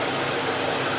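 The engine of a classic American luxury car undergoing restoration runs with a steady, broad rumble and hiss, even and continuous for a brief moment, with no talk.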